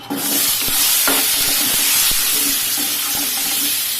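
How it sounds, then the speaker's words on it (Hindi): Potatoes frying in hot oil with turmeric and salt in a pan for a Bengali-style chicken curry, a steady loud sizzle and hiss with a few soft stirring scrapes, no voices. "इसको फ्राई करेंगे जब तक ये आलू पूरी तरह से हल्का हल्का ब्राउन ना हो जाए।"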